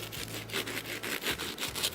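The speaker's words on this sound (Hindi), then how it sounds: "ये ब्रेड की कटिंग से ही आपको आ रही है, आ रही होगी, बेहतरीन" A serrated knife saws through crispy oven-baked sandwich bread, making a steady rhythm of rasping, crunchy strokes close up with no voices.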